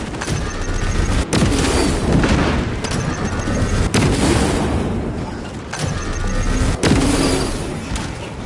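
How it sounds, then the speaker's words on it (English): Crack grenade explosions in the Space Marines 2 video game burst out as several heavy booms at irregular intervals over a dense, loud backdrop of battle noise. "Using crack grenade."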